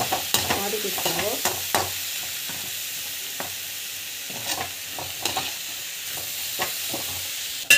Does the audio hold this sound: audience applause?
no